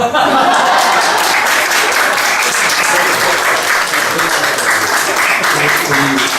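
Congregation at a church family worship gathering breaks into loud, sustained applause, dense clapping filling the room steadily throughout with a few light chuckles mixed in.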